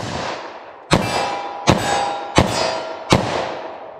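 Four sharp .45 ACP +P pistol shots ring out about once every 0.7 seconds, each a loud crack with a metallic clang of the round striking a steel target, trailing off in a brief ring.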